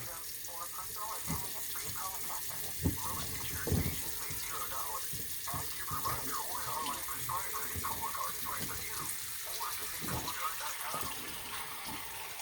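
Tap water runs into a container in a home bathroom, a steady broadband rush with a few louder splashes, heard under faint background sounds.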